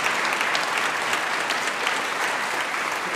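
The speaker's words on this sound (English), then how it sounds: "We can have a round of applause for him." An audience at a Shetland Folk Festival concert in Mareel, Lerwick, gives a musician a round of applause, a short burst of loud, dense clapping from many hands that stays steady throughout.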